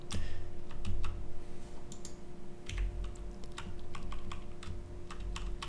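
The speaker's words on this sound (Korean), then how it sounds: "제 키보드에 있는 어, 숫자 2키를 누를 테니까" Keys clack on a computer keyboard in quick irregular bursts under a faint steady hum, close by and fairly quiet.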